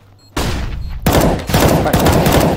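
Rifle gunfire in a Counter-Strike-style esports match between Pro100 and Tricked, a loud close burst of shots followed by further rapid volleys, each sharp and heavy with a punchy low end.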